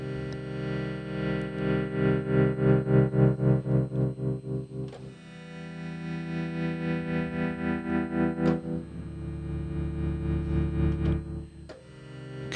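A Roland MV-30 synth pad drones with a rich, buzzy harmonic tone, its level pulsing in a regular LFO-driven wobble, switching between sustained chords at several points.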